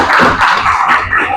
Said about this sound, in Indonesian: tepuk tangan buat teman kalian ya